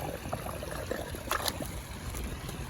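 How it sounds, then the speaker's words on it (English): A pond water pump runs beside a Tetra UV pond clarifier, with steady trickling and gurgling water close by and a few brief clicks or knocks. "So here's my water pump."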